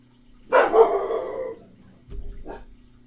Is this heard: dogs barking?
yes